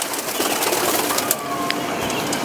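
Pigeons in Kolkata coo in short, soft bursts over a dense, hissy background, with a few brief sharper sounds scattered through and no speech.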